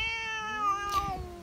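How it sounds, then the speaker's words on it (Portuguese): An unneutered stray tomcat meows in a long, wavering, tonal call that rises and bends, close and clear, with faint rustling noise around it. "Este, por exemplo, é um gato que ainda não foi castrado, e ele circula atrás das gatas"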